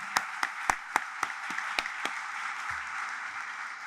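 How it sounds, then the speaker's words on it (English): Sparse, sharp claps from an audience at a naval nuclear power training graduation for sailors ring out in a loose rhythm, about eight distinct claps, before thinning out into a quiet hall. "So let's give them a round of applause."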